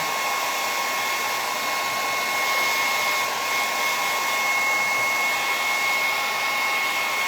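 A hair dryer blowing steadily on raised stencil work done in Fusion Mineral Paint, a constant loud whirring hiss with a faint high whine, unchanging and alone.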